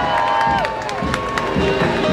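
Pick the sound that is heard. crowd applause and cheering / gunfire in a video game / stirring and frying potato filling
crowd applause and cheering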